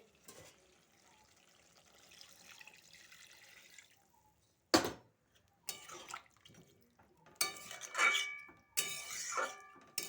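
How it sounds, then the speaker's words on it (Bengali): Water from boiling meat is poured into a pan of country chicken curry, with a few sharp clinks of a vessel and splashy pouring bursts after a quieter stretch, near and fairly faint. "এবারে সিদ্ধ করা জলটা, মাংস সিদ্ধ করা জলটা দিয়ে দিচ্ছি"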